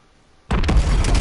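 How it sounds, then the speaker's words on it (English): A truck blows up in a Call of Duty mission: after half a second of near silence, a loud, sudden boom bursts in and rolls on as a dense, sustained rumble of debris and echo. "you actually have to wait to hear that explosion"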